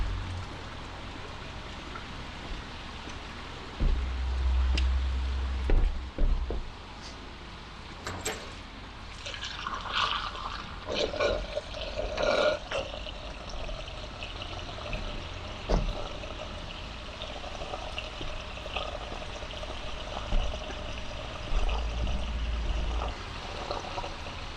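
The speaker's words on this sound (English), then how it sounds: "let's go and stick some water in the tank" Water runs from a hose fitting into a narrowboat's water tank, a soft continuous pouring and trickling with occasional knocks and clunks of handling, steady and moderately close with no talking.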